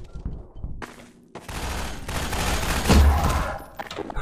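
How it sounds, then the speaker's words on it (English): Crossbow and shotgun fire in Half-Life 2, loud close blasts with a heavy boom near the end, mixed with game noise and brief quieter gaps. "Crossbow shotgun combination."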